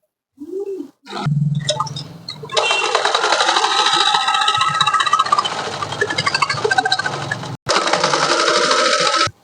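An electric sewing machine stitches a frock, running in a fast, even mechanical whir with rapid needle clatter that starts after some handling noises, stops briefly, then resumes, close and loud with no talking.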